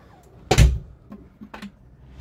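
A large wardrobe door in the bunk area of a 2021 Salute Barracks family bunk van makes one loud close thunk, followed by softer knocks and clicks as it settles.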